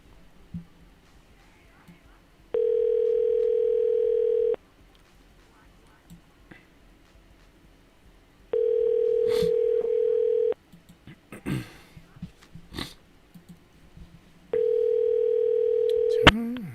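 A telephone dial tone sounds in three steady two-second bursts while a call is placed, with quiet shuffling, faint whispering and small handling noises in between.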